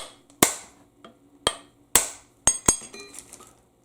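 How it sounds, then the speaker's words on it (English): Hammer whacks on a part of a 2002 Lexus RX300 U140 automatic transmission during disassembly, six sharp metallic blows spaced unevenly, close and fairly loud, with ringing clinks trailing the later strikes. "whack it with a hammer"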